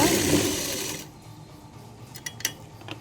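A sewing machine stitches a lined blouse in a brief whirring run that stops after about a second, followed by a few light mechanical clicks in a quiet room.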